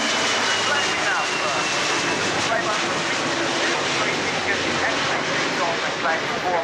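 B-25 bomber engines run up at an air show, a dense, loud, continuous roaring drone that holds steady throughout, heard without speech.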